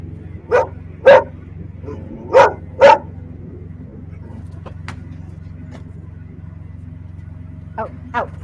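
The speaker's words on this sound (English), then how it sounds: "No growling, no barking." A dog barks several times in short sharp bursts close by, with a pair of quicker yips later on, over a steady low indoor hum.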